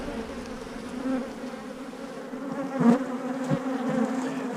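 Agitated honeybees swarm around a salvaged hive frame from a colony with a laying worker, a steady close droning buzz with a few louder swells as bees pass near.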